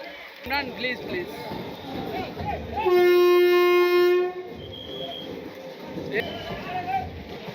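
A new Guntakal–Markapuram passenger train at Nandyal railway station gives one loud, steady horn blast of about a second and a half amid a crowd of people talking during the launch.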